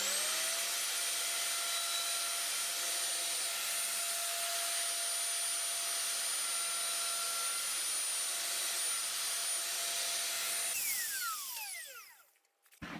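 A router mounted on a WoodRat jig cutting into wood, a loud steady high whine with a constant tone that runs for about ten seconds, then winds down with a falling pitch as the motor is switched off.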